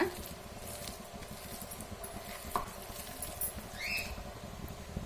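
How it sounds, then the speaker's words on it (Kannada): A spoon stirs vada batter of jackfruit seed and gram flour, making soft, irregular scraping and patting sounds at low volume, with a few faint clinks. "ಒಂದು ಸ್ಪೂನು ಕಳ್ಳೆ ಹಸಿಟ್ಟು ಸರ್ಸ್ಕೊತ ಇದ್ದೀನಿ ಚೆನ್ನಾಗಿ ಎಲ್ಲ ಮಿಕ್ಸ್ ಮಾಡ್ಕೊಳ್ಳೋಣ"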